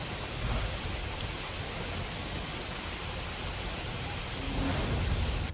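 Heavy monsoon rain pours steadily in Dwarka district, Gujarat, a dense, even hiss with no voices, swelling slightly louder near the end.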